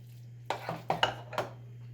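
A few utensil clinks and scrapes against a skillet as a chicken dish with an oil and vinegar dressing is stirred, four or five sharp close knocks over a low steady hum.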